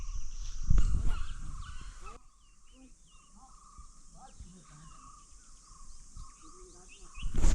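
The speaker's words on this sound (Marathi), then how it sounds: "एवढ्या सगळ्या पक्ष्यांचा आवाज सकाळी सकाळी पहाटे पहाटे ऐकायला मिळतो" Several birds call and chirp at a distance in a quiet early-morning village setting in the Konkan in summer, with a louder rustling burst at the start and a person speaking softly.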